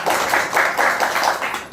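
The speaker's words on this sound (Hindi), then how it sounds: "ताली बजाइए आप" An audience at a gathering claps together for a few seconds, a steady patter of many hands in a room at moderate loudness.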